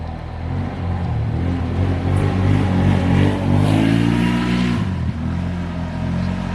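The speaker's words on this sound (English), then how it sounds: "Sorry for the loud cars" Loud cars passing on a road beside the Belle River in East China, Michigan: a sustained engine roar that swells and fades as vehicles go by nearby, with rising revving tones and a steady low rumble.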